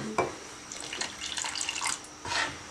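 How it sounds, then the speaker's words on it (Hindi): Water is poured into a simmering mango chutney with jaggery in a cooking pot, giving short splashy bursts with a small gap between them at close range. "कुल मिला के मैंने आधा लीटर पानी इस चटनी में डाला है।"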